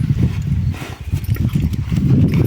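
Steady, dense hoof clopping from horses moving close by, a continuous rhythmic patter of low thuds with no voices.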